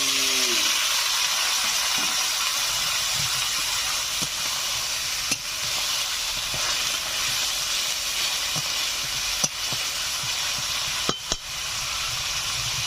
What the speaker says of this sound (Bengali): দিয়ে দিচ্ছি সামান্য পরিমাণে জল।